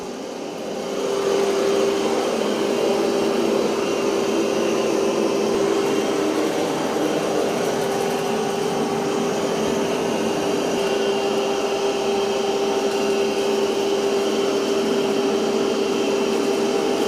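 A Roborock Qrevo Master robot vacuum runs over carpet with a steady, continuous motor whine and suction hum, loud and close, holding an even drone throughout.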